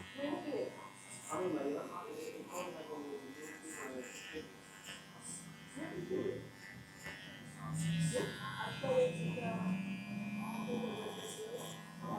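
Babyliss Pro hair clippers cut hair in a steady, quiet buzz throughout, with someone talking over the motor hum and occasional shifts as the blades move through the hair.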